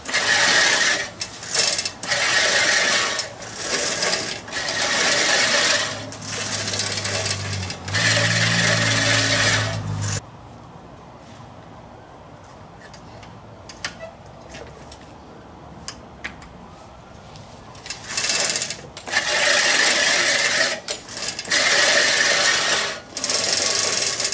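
A Remington push reel mower cuts lawn grass in repeated loud bursts of whirring, chattering blades, pausing into quieter rustling and footsteps before the rhythmic cutting strokes resume close by.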